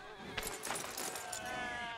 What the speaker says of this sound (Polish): Te owce.